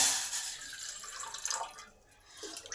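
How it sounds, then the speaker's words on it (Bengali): Water poured from a cup into a tea pan for milk tea, a short close splashing pour that thins out briefly before trickling again. "1 কাপের জন্য হাফ কাপ জল চায়ের পাত্রে দিলাম"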